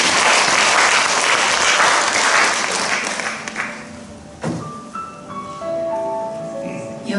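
Warm audience applause at a literary society book launch in a live café, loud and dense at first, then thinning out and fading after a few seconds as tonal sounds and a faint musical note take over.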